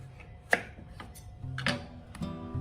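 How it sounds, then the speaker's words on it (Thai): A knife cuts vegetables in half on a cutting board for a Chinese vegetable stew, a few sharp, uneven cuts, close and fairly quiet, with no talking. "หั่นครึ่งอีกทีหนึ่งค่ะ"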